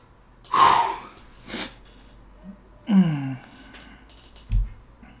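Heavy gasping breaths from a diver character in Subnautica running low on oxygen deep underwater, four sharp separate inhales and exhales spaced across a quiet background.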